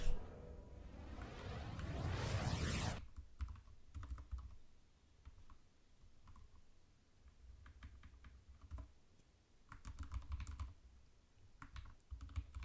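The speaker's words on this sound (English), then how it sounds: "If you hear me typing, yes, I am in fact typing." Typing on a computer keyboard, close and fairly quiet, with irregular bursts of key clicks and short pauses between runs, after a brief loud swishing sound at the start.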